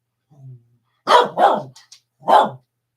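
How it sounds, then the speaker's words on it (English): A dog barks three times in quick, close bursts, preceded by a soft low whine, the barks loud and alone with no talk over them. "He'll bark himself to sleep."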